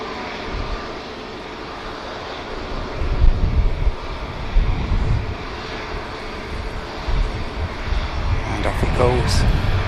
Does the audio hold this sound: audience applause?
no